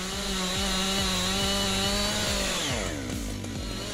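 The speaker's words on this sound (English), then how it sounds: "The Husqvarna 592 XP chainsaw is a giant in the chainsaw world." A Husqvarna 592 XP chainsaw with a long 90 cm bar cuts through a huge log, its engine holding a loud, steady high whine that drops in pitch as the chain bogs into the wood near the end.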